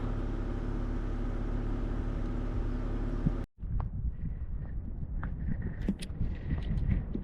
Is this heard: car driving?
yes